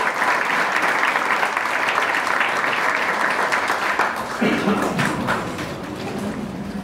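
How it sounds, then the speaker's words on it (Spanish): Warm applause from a church congregation welcoming a guest speaker, a steady dense wash of clapping filling the room from start to finish, with a voice briefly audible over it near the end. "¿qué tal si le damos un cariñoso aplauso de bienvenida a Adrián?"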